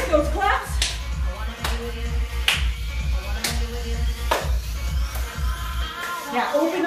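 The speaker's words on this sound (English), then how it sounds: "Step touch, with those claps." Hand claps in a beginner HIIT workout step touch, sharp and evenly spaced about once a second, over upbeat music and a voice giving instructions.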